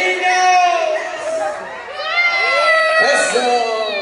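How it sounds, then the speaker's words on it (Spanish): Children shouting and cheering at a party, a loud chorus of excited young voices rising and falling together over several seconds. "¡Y el grito de los niños!"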